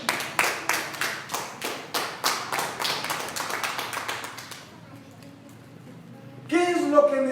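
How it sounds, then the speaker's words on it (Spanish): A church congregation claps in a quick, loud rhythmic beat that speeds up and then stops, leaving a quiet pause before speech starts near the end. "Denle un aplauso al Señor."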